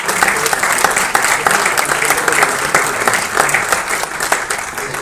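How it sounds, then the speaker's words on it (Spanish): Sustained applause from an audience at a book presentation in La Paz, a dense, loud patter of many hands clapping continuously throughout. "Nos está escuchando y ha escuchado este aplauso."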